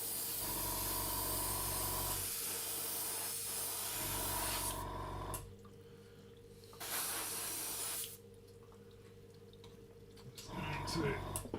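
Self-levelling varnish sprayed onto a scale model comes as steady hissing bursts with brief pauses between them, close and fairly loud, over a constant low hum.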